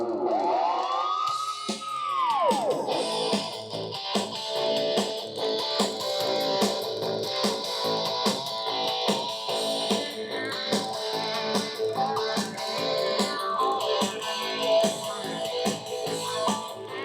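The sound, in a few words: CD audio music played under DOS via optical disc emulator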